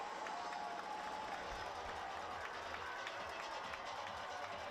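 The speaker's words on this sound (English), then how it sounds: "He's got this crowd on its feet here at Brown Stadium." A football crowd at Brown Stadium cheers and applauds steadily in a faint, distant roar of many voices and scattered clapping.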